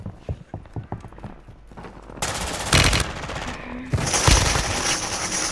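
Call of Duty gameplay brings rapid gunfire: a string of quick clattering shots, then sudden loud bursts and a dense barrage of firing at close range, with no talk.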